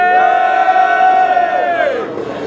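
A crowd at national airsoft tournament finals cheers and yells in a loud sustained roar, one strong voice holding a long tone before the noise fades near the end.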